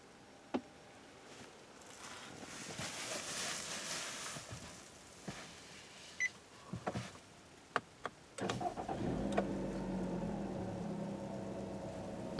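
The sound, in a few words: 2017 Nissan Rogue engine starting up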